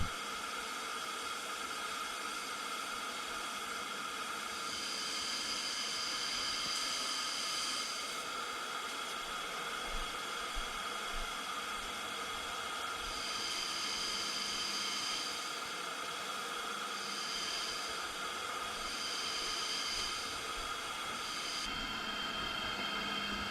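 A spray gun lays down a metallic automotive base coat in a steady, continuous hiss, with passes starting and stopping in short bursts over a constant background of airflow.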